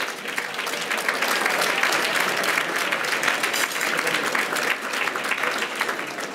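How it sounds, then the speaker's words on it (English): Sustained applause from an audience at an academic debate event in Chicago, a thick, continuous clatter of many hands that stays steady throughout. "I just want you all to give them another round of applause."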